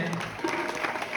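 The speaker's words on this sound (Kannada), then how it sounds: "ಜೋರಾದ ಚಪ್ಪಾಳೆ." Loud applause from an audience at an inauguration and lamp-lighting ceremony, steady dense clapping across the whole short moment with a voice faintly mixed in.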